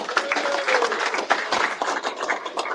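Fans at a football club forum applaud as the manager is introduced, a lively mass of clapping with a few louder individual claps and faint crowd murmur, sustained throughout.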